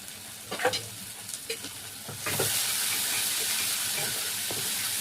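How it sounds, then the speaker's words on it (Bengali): A spatula scrapes and taps through masala of turmeric and Kashmiri chili powder in a pan, then more oil hits with a sudden, loud, steady sizzle that holds to the end, close and without speech. "এবার আমি মশলাটা ভালো করে আগে কষাবো"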